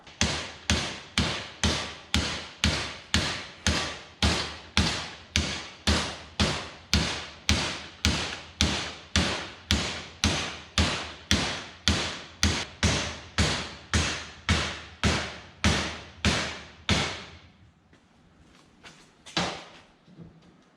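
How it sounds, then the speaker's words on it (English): A hammer bangs on a metal universal joint of a New Holland 96 slasher in a steady, even rhythm, roughly two blows every second, close and loud, then stops and a couple of lighter knocks follow. "So I'll get a hammer and start whacking away."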